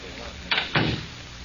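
In a 1940s detective radio drama, a door clunks shut in two quick knocks close together, with soft voices around it.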